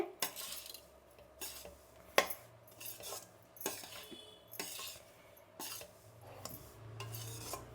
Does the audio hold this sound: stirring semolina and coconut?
yes